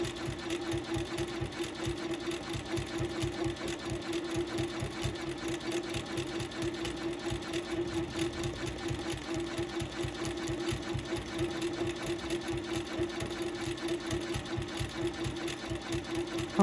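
A sewing machine quilts a lattice stencil design, its steady, fast mechanical chatter running close and continuous with an even rhythm and no pauses throughout.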